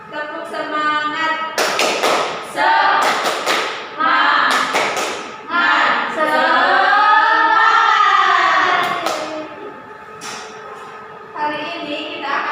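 A school class stands and performs the 'tepuk semangat' clapping chant, with sharp rhythmic bursts of hand claps alternating with children's voices chanting together, close and loud.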